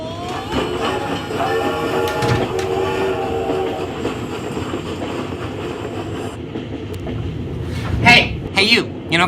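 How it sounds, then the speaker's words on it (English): A Baldwin S3 class 2-8-4 steam locomotive built in 1931 runs in a film scene, a steady heavy rumble and clatter with sustained whistle-like tones early on and sharper clanks near the end. "It's a Baldwin 284S3 class steam locomotive, built in 1931"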